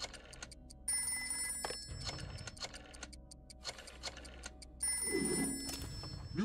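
A telephone bell rings in a video game, coming in two trilling bursts over an ambient bed with scattered clicks and a brief low thump.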